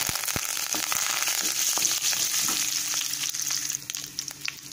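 Curry leaves hit hot tempering oil with mustard seeds, dal and cumin, giving a loud, dense close-up sizzle with scattered crackles that eases slightly toward the end.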